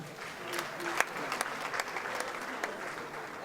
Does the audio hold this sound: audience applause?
yes